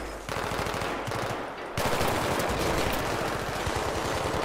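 Automatic weapon fire in the video game Battlefield 3: rapid machine-gun bursts in quick succession, sharp and continuous, growing louder midway, with no talking.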